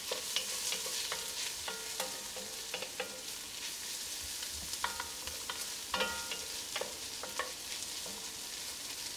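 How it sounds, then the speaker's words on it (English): Onion and garlic sautéing in a pan as the base for marinara sauce, a steady soft sizzle with repeated sharp clinks and scrapes of a utensil stirring against the pan, no voices. "Let that saute for about a minute more"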